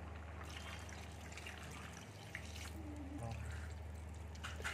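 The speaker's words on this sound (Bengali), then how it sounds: "আমি জল দিয়ে দিচ্ছি।" Water pours steadily into a cooking pot of mixed vegetables with rohu fish, a continuous soft trickle and splash close by throughout, alone without talk.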